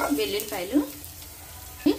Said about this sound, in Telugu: ఇప్పుడు దీనికి పోపు వేసుకుందాం